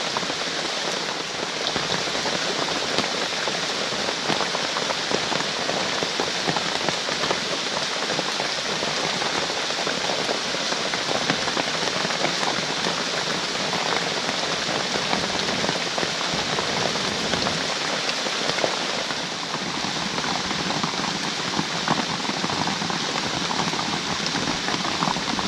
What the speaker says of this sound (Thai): แล้วก็ฝนเริ่มตกหนักขึ้นมานะครับ